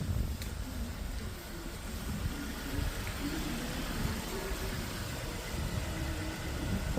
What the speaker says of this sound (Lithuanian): Automobilis dirba tvarkingai